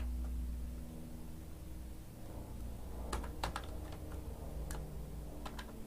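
C program code is typed on a computer keyboard in quick bursts of sharp, close key clicks over a steady background hiss.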